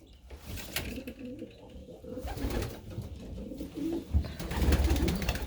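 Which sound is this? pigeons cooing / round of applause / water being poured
pigeons cooing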